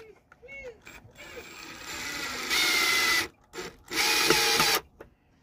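A power drill whirs in two strong bursts while drilling a pilot hole, a brief pause between them, after some quieter mechanical noise and a short voice at the start.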